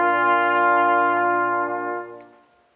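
A brass trio of trumpet, horn and trombone sustains one rich, harmonically full chord played together, holding steady before fading out near the end, with no talking.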